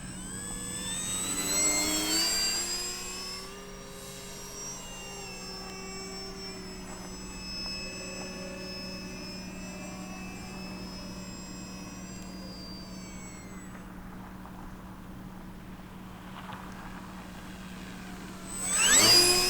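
A TopRcHobby C-400 radio-controlled airplane flies overhead, its electric motor whining and shifting pitch as it climbs, passes and banks, rising near the start and end with a steady hum in between.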